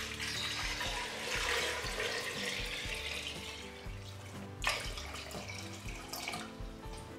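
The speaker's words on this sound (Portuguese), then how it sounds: "Vou colocar o sal e vou cobrir com água." Water runs from a tap and pours into a pot over salted dried meat, a steady splashing rush with a sharper gush near the end and faint clinks in the kitchen.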